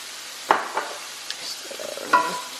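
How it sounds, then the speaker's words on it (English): Carrots, onion, celery and garlic cook in olive oil in a pan, a soft sizzle broken by a few scraping stirs and clacks of a utensil against the pot, fairly quiet and close. "the carrots, onion, celery, and garlic have been cooking for, let's say, around 10 minutes"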